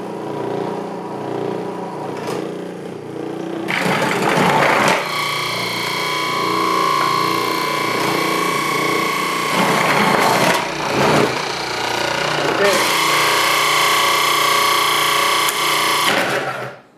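A Cuisinart DFP-14BCN food processor runs in loud sustained bursts with a steady motor whine and grinding, stopping briefly twice between long runs.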